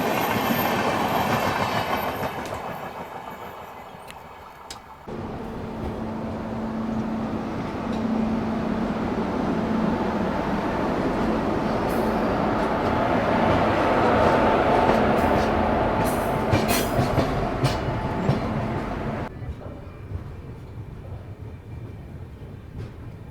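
The Nizamuddin–KSR Bengaluru Rajdhani express train rumbles past at close range for a long stretch, wheels clattering rhythmically over the rails amid a steady roaring wash of noise.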